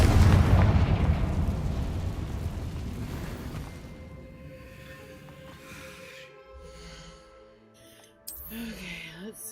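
A Confringo blasting spell explosion in a video game: a loud booming blast at the start that rumbles and decays slowly, followed by quieter game sounds and a voice later on.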